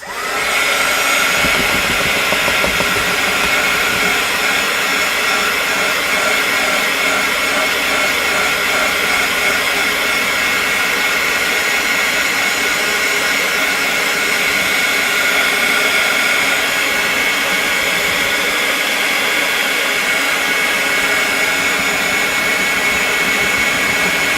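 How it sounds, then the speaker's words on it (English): A hair dryer blows on wet acrylic pencil on mixed media paper, a loud, steady whooshing hiss that runs unbroken from start to finish with no talking. "I'm going to use my dryer for just a second to dry that."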